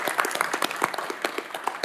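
An audience at a city council meeting claps in steady, moderately loud applause, with a faint voice underneath.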